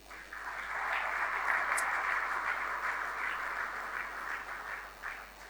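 Applause at a jersey sponsor unveiling for Bendel Insurance FC and Edo Queens FC, a steady moderate patter of many hands clapping that holds for several seconds and thins slightly at the end.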